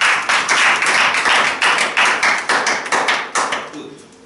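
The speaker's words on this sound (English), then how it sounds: "Let's clap for him." A small group claps together at a Christmas gathering in Turnhout honouring the birth of Christ, producing a steady, fairly loud rhythmic beat of sharp claps that quickly fades away at the close.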